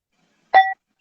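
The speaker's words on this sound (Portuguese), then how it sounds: "nós vamos começar com o sino tibetano" A Tibetan bell is struck once to begin a prayer, giving a single clear ringing tone that decays quickly into silence.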